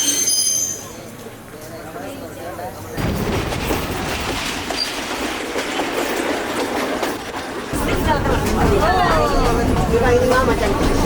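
A train runs on the rails near Demodara, Sri Lanka, on the line from Ella past the Nine Arches Bridge, with a loud steady rumble and clickety-clack that swells midway, while passengers chatter throughout.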